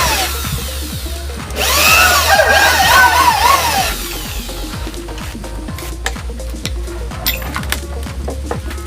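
A power drill bores into wood while a 5-meter fishing boat is being built, a loud whining burst of a couple of seconds standing out over steady workshop clatter and knocking.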